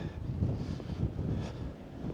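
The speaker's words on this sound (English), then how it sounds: "It's known for its wind over here. It's very windy." Soft, low wind rumbles against the microphone in uneven gusts on the coast near Castletown, Isle of Man, fairly quiet, with no voices.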